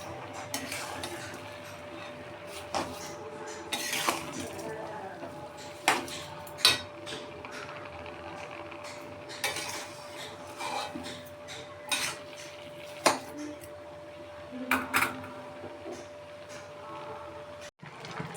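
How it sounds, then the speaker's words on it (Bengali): Carrot halwa with freshly added sugar being stirred in a pan, a spoon scraping and clinking against the metal in irregular bursts, close and fairly soft, over a faint steady background hum. "এখন এটাকে ভালো করে নেড়ে নিতে হবে।"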